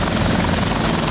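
Helicopter carrying a state minister arriving in Allahabad, a loud, close, continuous rotor and engine roar filling the whole moment without voices.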